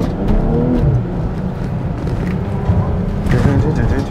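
A BMW M car pulls away on a track, a loud low engine drone with rising and falling revs and a sharper burst near the end; people talk over it.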